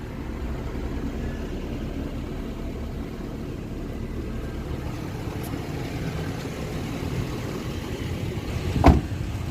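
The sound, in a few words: 2010 Maruti Eeco car running with AC on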